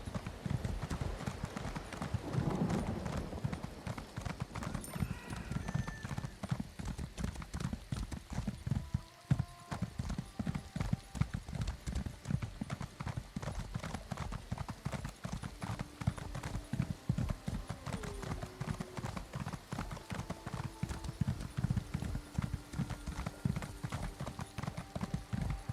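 Horse hooves clip-clop in a steady, rapid rhythm throughout in Elder Scrolls Online, close and continuous, with a brief whinny early on.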